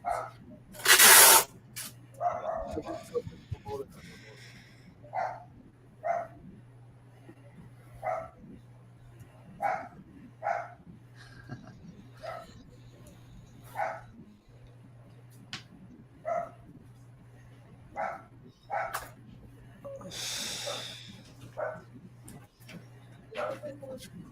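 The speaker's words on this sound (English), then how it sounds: "It's because my dog's barking at the neighbor." A dog barks at a neighbor in short, separate woofs repeated at fairly regular intervals, moderately close and fairly loud. A steady low hum sits underneath, with a sharp spray-like hiss near the start and another later on.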